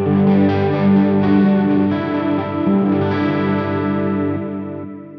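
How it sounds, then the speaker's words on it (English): A guitar runs through the chorus effect of a Flamma FX20 modeling headphone amp, with lush, shimmering sustained chords ringing loud and close, slowly fading at the end. "change this flanger to a chorus pedal and see if it's in stereo as well"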